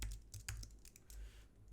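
Quiet, steady clicking of keys on a laptop keyboard, rapid irregular taps in short bursts with brief pauses, close and fairly faint, no voices.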